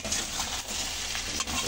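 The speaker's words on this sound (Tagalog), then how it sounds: "Haluin." Chayote and ground pork being stirred in a hot pan, with a steady sizzling hiss and soft scraping of the utensil running throughout, close and even in level.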